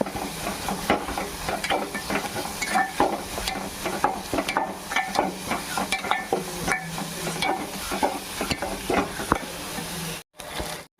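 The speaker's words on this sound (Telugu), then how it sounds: "అది కూడా పచ్చి వాసన పోయేదాకా మంచిగా ఫ్రై చేసుకున్నాం." Ginger garlic paste fries in a pan for chicken biryani, a steady close sizzle broken by repeated scraping stirs of a spoon, with no talk.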